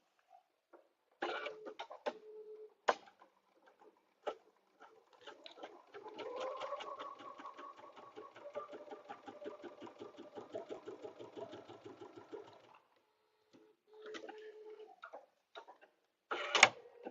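A home sewing machine stitches a quilted rose garden placemat in a steady, mid-volume whirring run of about six seconds, with short stop-start bursts and handling clatter before and after.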